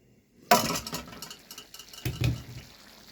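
Chicken gravy with tomatoes stirred in a cooking pot, then covered with a lid: a sharp spoon clink against the pot, a few softer taps, then a duller thud as the lid settles, close and fairly quiet.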